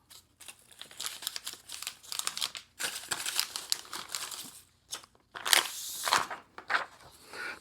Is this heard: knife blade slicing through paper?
yes